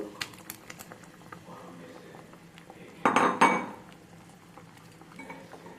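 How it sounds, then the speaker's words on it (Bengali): Paneer pieces drop into bubbling gravy in a pan for matar paneer, a short burst of splashing and clatter midway amid quiet utensil clinks. "এখানে গ্রেভি আমার ফুটে উঠেছে, তো এর মধ্যে আমি এখন পনিরগুলো দিয়ে দেব।"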